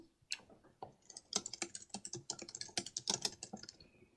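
Typing on a computer keyboard, a quiet close run of rapid irregular key clicks starting with a few isolated taps and then quickening, with no talk.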